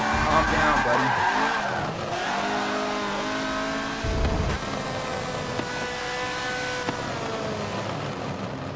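A race car in an IMSA-style racing video game slides and squeals its tires, a long sustained screech over a droning engine note that shifts in pitch as it drifts, loud and continuous.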